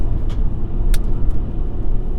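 A 2001 Toyota Avalon with a V6 engine drives along a canyon road, a steady, loud low rumble of engine and road noise heard from inside the car.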